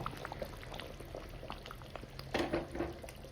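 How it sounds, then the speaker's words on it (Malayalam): Sardine curry simmers in a covered pan, giving a steady soft bubbling and hiss with a brief louder burst of sputtering near the end and no voices. "ഇനി നമുക്കൊന്ന് അടച്ചു വെച്ച് ഒരു പത്ത് മിനിറ്റ് വേവിക്കാം"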